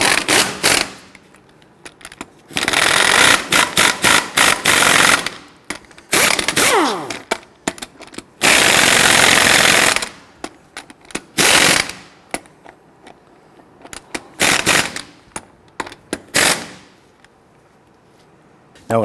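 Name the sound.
tightening lug nuts on a Hummer H3 wheel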